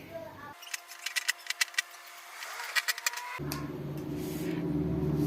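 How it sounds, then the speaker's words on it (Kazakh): Scissors snipping through fabric while cutting out a quilted vest for sewing, a quick series of close, crisp clicks in two bursts, fairly quiet, with room noise around them. "Мына жерін қиып алып тастаймыз."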